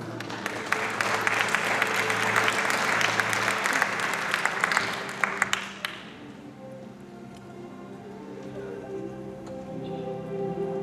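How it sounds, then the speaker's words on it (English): A full room applauds steadily at a closing ceremony of an international harbor-city forum, the clapping running strong for several seconds before fading into a low, quiet hall ambience. "Let's give them a round of applause"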